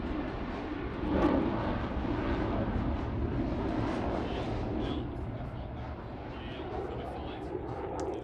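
A Eurofighter Typhoon jet flies a display pass at Farnborough International Airshow 2016, a broad distant engine roar swelling and fading beneath a commentator's continuous talking.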